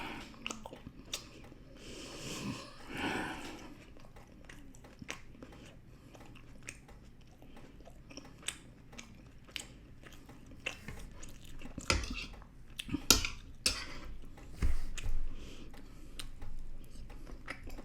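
Someone chewing and eating brisket close to the mic: soft wet chewing and occasional crunchy bites, with a few louder clicks and utensil taps toward the end, no talking.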